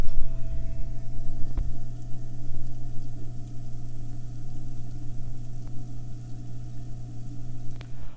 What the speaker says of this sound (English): you could actually hear the hydrogen peroxide working